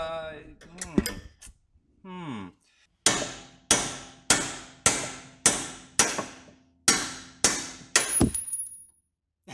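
A chisel pick hammered against the outer tie rod of a Mazda Miata rings out in about eight loud, evenly spaced metallic strikes, each ringing briefly, after a few scattered clanks and shuffles.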